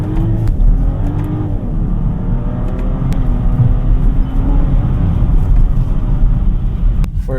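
A 2025 BMW X5 xDrive50e M Sport plug-in hybrid with a 3-liter inline-6 turbo accelerates from inside the cabin, its engine drone rising steadily and loud over constant road rumble.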